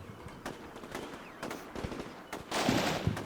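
Gunfire in a US Marine simulator video game, a scattered series of sharp, fairly distant shots and cracks, building to a louder burst near the end.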